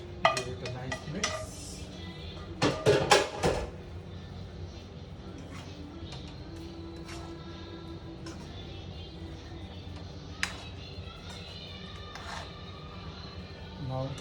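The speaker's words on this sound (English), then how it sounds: "The paneer into the gravy and give it a nice mix." A spoon clatters and scrapes in a pan as paneer is stirred into shahi paneer gravy, a cluster of loud clinks in the first few seconds before settling into a quiet kitchen hum with a few faint knocks.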